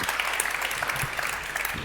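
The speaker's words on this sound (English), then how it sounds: "Give a big round of applause for this panel." An audience gives a panel a dense, steady round of applause, many hands clapping together at an even level for the whole short stretch.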